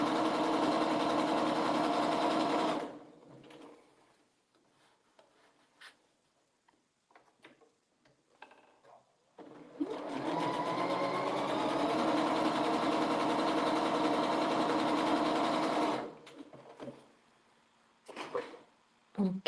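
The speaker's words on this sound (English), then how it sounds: "I'm always playing with this stitch length of my machine." A sewing machine stitches quilt blocks in two long, steady runs of fast mechanical whirring, with a quiet pause of small handling clicks between them.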